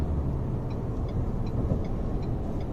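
Steady low engine and road rumble from inside a Ford Endeavour SUV as it gathers speed, a constant dense drone with faint periodic ticks and no talking.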